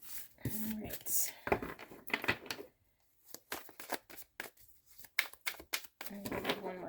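Tarot cards riffle and slap softly in quick bursts, broken by brief pauses and papery crinkles, close and quiet, with a voice murmuring at times between the shuffles.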